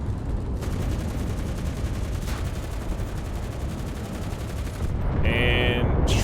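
The turret gun of a Stuart tank fires in the video game Enlisted, a loud continuous rattling burst over engine rumble, with faint voice beneath.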